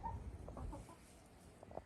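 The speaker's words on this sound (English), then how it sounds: "She's like my favorite chicken." A hen in a backyard coop gives a few soft, close clucks and low murmuring calls, quiet and intermittent against a faint background.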